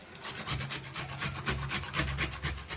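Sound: grating radish

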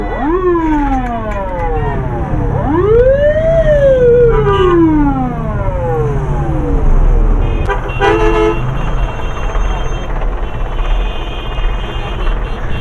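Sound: ambulance siren and horns in traffic jam

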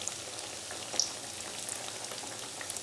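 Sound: bhaja pithe (rice cakes) frying in oil

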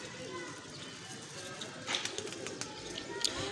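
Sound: pigeons cooing on a rooftop

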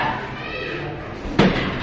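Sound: main door of a house being opened

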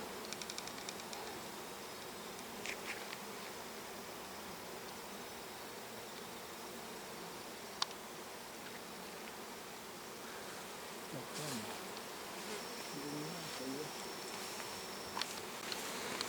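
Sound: swarm of honey bees landing at an apiary

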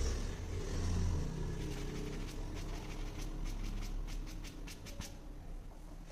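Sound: polisher with soft foam finishing pad on car paint

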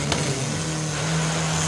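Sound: Turbo C drag racing cars launching down the track

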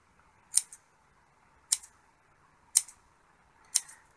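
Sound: scissors cutting into pairs

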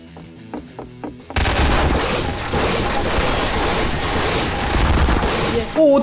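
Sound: gunfire in Garry's Mod video game

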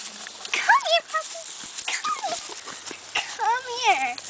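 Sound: puppy

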